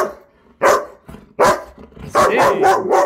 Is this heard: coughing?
no